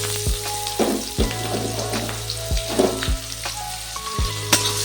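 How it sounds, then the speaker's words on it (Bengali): Chopped onion and slit green chillies sizzle steadily in hot oil in a pan for Bengali prawn and Malabar spinach chorchori, with regular scraping stirs about every second. "এরপর এটা ভালোভাবে আমি ভেজে নেব, পেঁয়াজটা একটু লাল লাল করে ভেজে নেব।"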